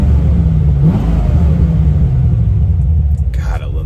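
A 1994 Corvette engine, just fitted with a new fuel pump, runs with a loud low rumble and a slight rev early on, close by, with soft talking near the end.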